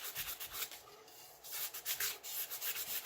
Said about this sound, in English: Sanding, lots of sanding.